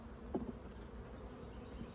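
Honey bees buzzing around mini mating nucs, a faint, steady hum with a slightly closer pass near the start, quiet and continuous outdoors.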